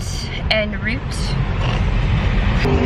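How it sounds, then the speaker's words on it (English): Inside a car stuck in heavy traffic between Boston and Cape Cod, a steady low road rumble runs throughout, with people chatting over it. "there's a lot of traffic going from Boston to the Cape, so we're kind of stuck in traffic right now"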